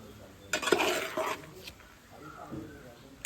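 Cooked rice and vegetables stirred together in a pan for veg fried rice, giving a few soft scraping and clinking strokes at close range with quiet gaps between them.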